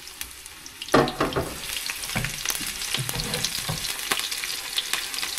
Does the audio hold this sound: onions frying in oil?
yes